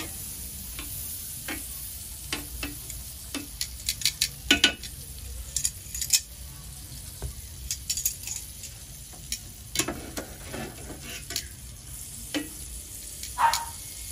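Margarine sizzles softly in a pan before tuna goes on to grill, a quiet continuous hiss broken by small clicks and scrapes of stirring.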